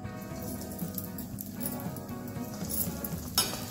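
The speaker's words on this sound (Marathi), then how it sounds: "आता यांना आपण तळून घेऊ।" Bread gulab jamun deep-fry in hot oil over medium heat, giving a dense, continuous bubbling sizzle with a few faint utensil taps, close and even throughout.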